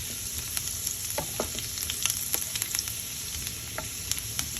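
Tadka for ghota-style daal gosht frying in hot oil until golden, giving a steady close sizzle with scattered pops and crackles and no voices.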